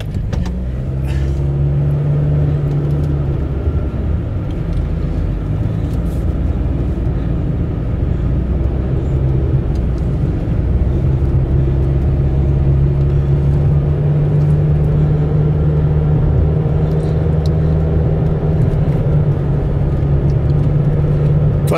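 A car climbs a hill toward the Fedyukhin Heights in Crimea with a loud, steady engine drone and low rumble from inside the cabin. A sustained hum holds without pause, and there is no talking.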